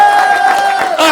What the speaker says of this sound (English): I would like you to do a lot of applause